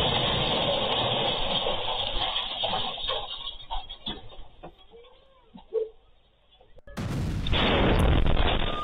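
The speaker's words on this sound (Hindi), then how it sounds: "हर्जलिया इलाके पर हमास ने दागे हैं रॉकेट।" During a Hamas rocket attack on Herzliya, Israel, loud blasts and a heavy rumble fill the air. The noise fades to a lull midway, then a sharp burst brings the roar back.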